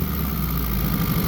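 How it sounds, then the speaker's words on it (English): 1988 Suzuki Samurai engine idling on dual 40mm Mikuni side-draft carburetors, a steady close rumbling idle with even low pulsing for a brief moment. "You can see it has a nice idle to it."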